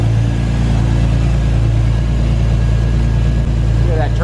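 A widebody Toyota Supra's turbocharged engine runs loud and steady at a deep, even idle up close, with a faint brief squeak near the end.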